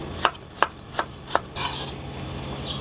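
A knife chops through a tomato on a cutting board four times at an even pace, crisp close thuds followed by a soft scraping sound, with no talking.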